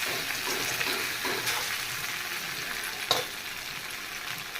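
Chicken fry-piece biryani mixture being stirred in a pan, with a steady broadband sizzle and scraping throughout and one sharp clink of the utensil near the end.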